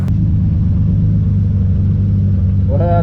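A turbocharged rally car engine drones in a heavy low rumble heard from inside the cabin, steady and loud, with a rising whine and revving harmonics climbing in at the very end.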